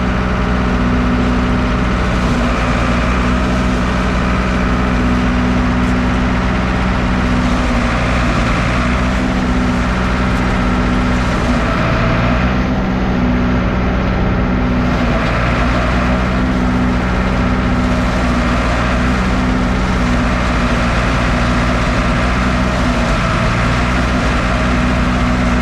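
Steady, loud mechanical roar of a tractor-driven forage blower taking sweet corn silage unloaded from a wagon, a continuous droning engine and fan rumble that stays constant throughout without pauses.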